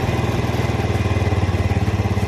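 A small motorcycle engine idles with a close, loud, rapid and even putter while its carburetor screw is being adjusted.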